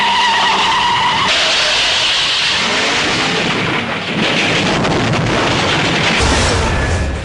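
A loud James Bond film car chase scene: engines roar and tires skid and screech continuously, with rumbling crashes and a dense, chaotic mix throughout.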